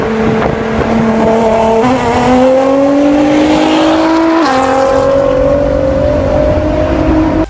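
Nissan GT-R with a 545 horsepower twin-turbo V6 in Need for Speed, a loud, close engine holding a steady drone that climbs in pitch through gear shifts, with no talking.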